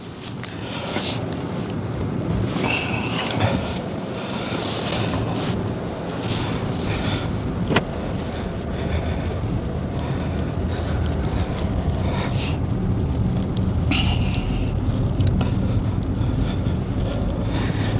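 A car carries villagers home along a rural road, its steady engine and road rumble continuous and close with wind noise over it the whole time.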